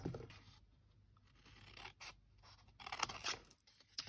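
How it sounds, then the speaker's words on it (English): Scissors snip through scored card stock close up, making quiet crisp cutting and scraping strokes in short bursts with brief pauses between, no voices. "you're going to cut up to the 2nd score line here on both sides"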